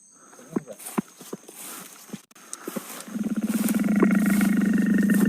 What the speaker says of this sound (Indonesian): Ada suara harimau.